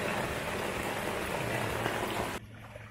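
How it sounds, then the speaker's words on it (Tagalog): Heavy rain pours at a beach campsite, a dense, constant patter and roar that cuts off abruptly near the end, leaving a quieter background. "Ganito yung pinakamalakas na ulan."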